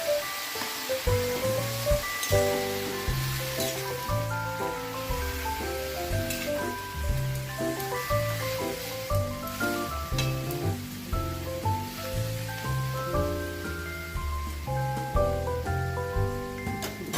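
Steamed bottle gourd leaves fry in oil in a wok, making a continuous close crackling sizzle with dense spattering pops throughout, no voices.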